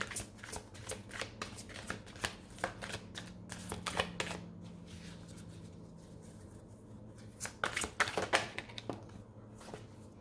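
Oracle cards being shuffled by hand, a run of crisp riffling flutters and soft slaps with a steady low hum beneath, pausing midway before another burst of shuffling.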